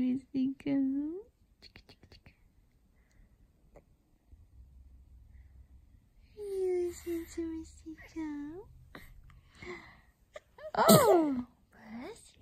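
A baby gives a small sneeze among soft coos and babbling, with someone speaking gently nearby.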